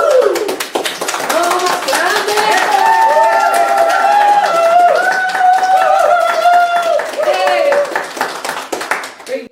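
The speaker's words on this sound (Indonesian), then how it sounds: "ayo tepuk tangan bersama" An audience claps together throughout a main session of an Indonesian gathering, making dense, continuous applause with tonal music sounding over it for about nine seconds.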